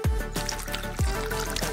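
Melted candy mixture with whipped cream is poured into tilted glasses, heard as a soft liquid trickle with thick dripping plops, close by and set against a loud background of music.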